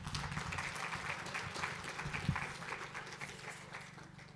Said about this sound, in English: So if we can just give them a round of applause,